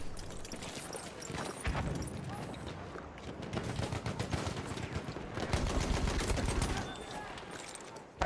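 Battlefield 1 gameplay gunfire, dense rattling bursts and bangs crackling throughout, with heavier thumps and loud volleys near the middle and later, under faint occasional voices.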